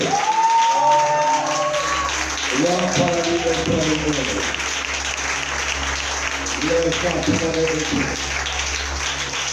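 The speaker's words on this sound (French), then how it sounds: "Acclame très fort pour Dieu." A church conference audience applauds and cheers for God in a sustained wash of clapping, with loud voices shouting and calling out over it throughout.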